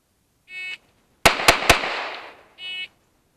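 Three sharp pistol shots from a Smith & Wesson M&P40 fire in rapid succession, loud and close, each crack trailing into a reverberant decay, with brief electronic beeps from a shot timer before and after.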